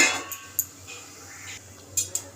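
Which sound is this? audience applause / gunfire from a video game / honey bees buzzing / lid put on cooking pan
lid put on cooking pan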